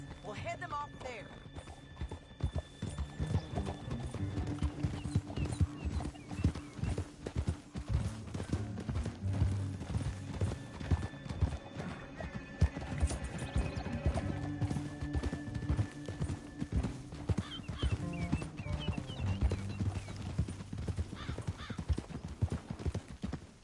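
Horses gallop in the video game Red Dead Redemption 2, a steady rapid clip-clop of hooves running throughout with occasional neighs and voices over a continuous background.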